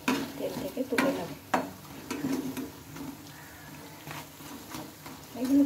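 Pumpkin and potato snacks fry in oil with a soft, quiet sizzle, broken by occasional clinks and scrapes as the pieces are stirred and lifted out.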